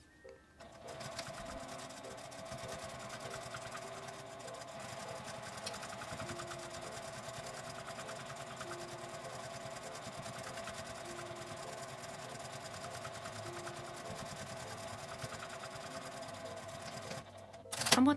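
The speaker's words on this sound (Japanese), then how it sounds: "端ミシンをかけます。" A sewing machine runs a line of edge stitching around a small round fabric plate made from scraps, a quiet, steady, even whir that goes on for a long stretch before stopping with a louder clatter at the end.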